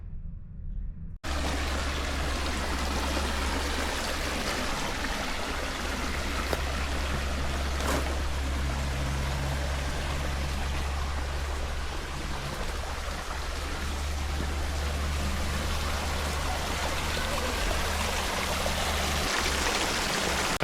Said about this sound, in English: We have the creek water right here, and then we have the spring water right here.